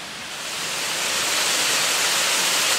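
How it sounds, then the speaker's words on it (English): A North Georgia waterfall heard from a bridge gives a steady, broad rushing roar that swells slightly at first and then holds even, with no voices. "you can just barely make out the falls from here"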